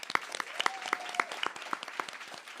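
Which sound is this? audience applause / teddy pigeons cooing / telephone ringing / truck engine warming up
audience applause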